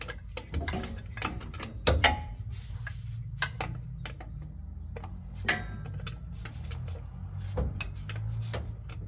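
Ratchet wrench clicking in quick bursts while loosening the last bolt on a first-generation truck's drive shaft at the center support bearing, close and loud, with intermittent sharp metallic knocks between the runs and no talking.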